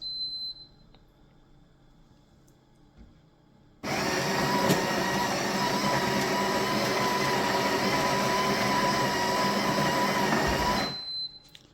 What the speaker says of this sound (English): We'll press start grind.